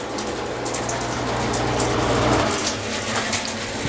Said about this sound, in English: A little bit of leaking going on. The shower head's not in the greatest shape, but pressure's still good and it's hot.